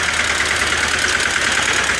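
A tractor engine runs steadily at idle, a loud, continuous mechanical drone with no breaks, close by.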